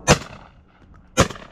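Two sharp, loud shotgun blasts roughly a second apart, fired with a Beretta A400 Xtreme Plus or Winchester SX4 semi-automatic while shooting wood pigeons over a bean field outdoors, each crack trailing into quiet open-air ambience.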